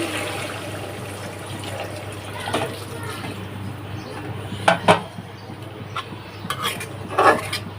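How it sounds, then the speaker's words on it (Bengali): Warm water is poured into a pot of tilapia fish curry with a continuous splashing rush, followed by scattered clinks of metal utensils against the pot. "পানি একটু গরম পানিগুলো দিয়ে দিতেছি"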